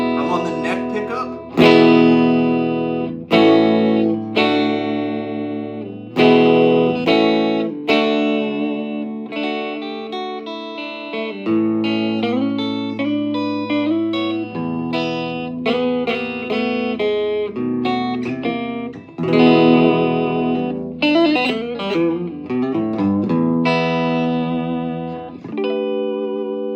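An electric guitar on the neck pickup plays through an Orange O Tone 40 amp with no reverb and the EQ at the middle, picking loud, sustained notes and chords in a clean-to-driven playthrough without talk.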